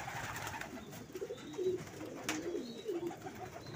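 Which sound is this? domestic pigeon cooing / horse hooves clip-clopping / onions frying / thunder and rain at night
domestic pigeon cooing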